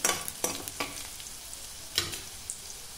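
Garlic, green chili and curry leaves sauté in a pan for masala bhindi, a soft close sizzle punctuated by several sharp spatula clacks and scrapes at irregular intervals.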